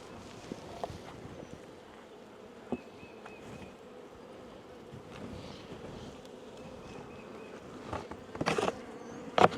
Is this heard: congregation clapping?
no